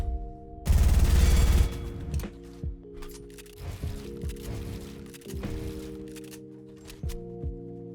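Gunfire in a Fortnite aim practice course: a loud sustained burst of rapid shots near the start, then scattered single shots and impacts over steady tonal game music, with no voices.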